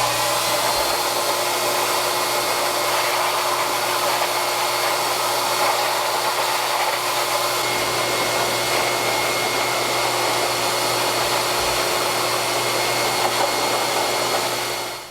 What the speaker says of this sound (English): you can use your wife or your mom's blow dryer